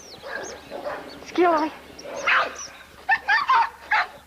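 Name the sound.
dog barking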